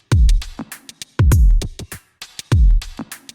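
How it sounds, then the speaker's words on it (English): A simple, unprocessed electronic drum loop plays dry and alone: a booming kick repeats about every 1.2 seconds with snappy snare and hi-hat hits between, clean with no voices. "Originally the drums sound like this."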